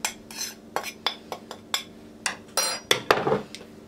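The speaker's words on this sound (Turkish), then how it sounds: "Karıştırıyorum." A spoon clinks and scrapes repeatedly against a bowl while salt, black pepper and chili flakes are mixed together, giving about a dozen sharp, close taps in an uneven rhythm.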